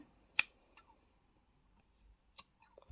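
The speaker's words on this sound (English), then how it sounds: "Before we cut this red yarn" Scissors cut through red yarn during a crochet project, giving one sharp close snip, a small click, then a second snip after a pause, in a quiet room.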